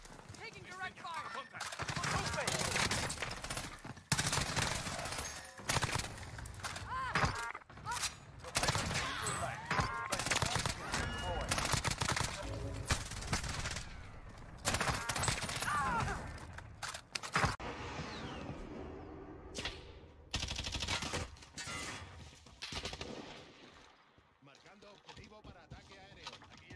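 Dense Call of Duty: Warzone gunfire crackles in rapid, sustained bursts across a battle royale firefight, loud and close, with voices talking over much of it before the shooting thins out near the end.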